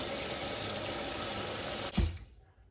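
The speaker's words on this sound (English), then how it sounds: "first I'm gonna start by washing my oxtail" Water runs steadily from a kitchen sink tap while oxtail is rinsed under it, a continuous close splashing hiss that ends with a thump and fades as the flow is shut off.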